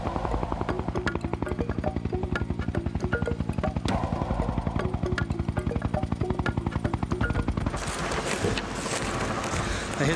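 Helicopter flying over rugged Sierra Nevada wilderness during a search and rescue, its rotor chop a fast steady thumping that runs throughout and turns louder and rougher near the end.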